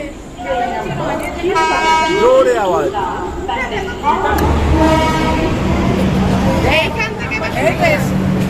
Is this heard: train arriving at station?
yes